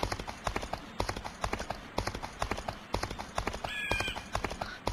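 Horse hooves in a video game, a steady galloping clip-clop rhythm repeating throughout with a brief whinny near the end.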